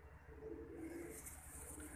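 Pigeon cooing in a steady, soft, low rumbling series, fairly close, with no voices over it.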